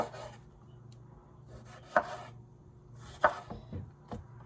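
Knife chopping peppers and tomatoes for fresh salsa on a cutting board, a few distinct thuds spaced about a second apart amid soft scraping and handling, close and without talk.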